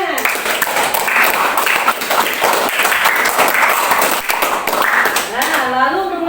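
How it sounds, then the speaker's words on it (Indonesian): A classroom of students claps together, a dense burst of applause that carries on for about five seconds before fading, with a voice speaking at the end. "tepuk tangan."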